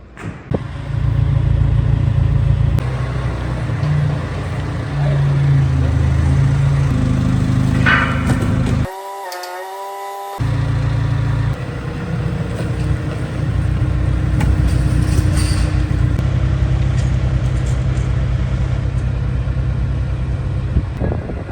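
A rebuilt MAN D2866 diesel engine runs on its first start after repair, a steady low droning hum close by that drops out briefly partway through and then resumes at the same even level.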